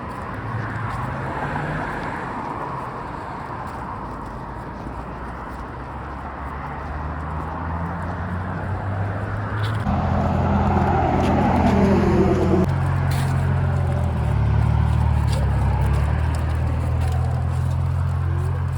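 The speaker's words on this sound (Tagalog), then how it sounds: "Masyadong ingay yung mga sasakyan." Cars pass on a busy street while people walk outside, a steady roar of engines and tires that swells louder midway as a nearby vehicle rumbles close, with no talking.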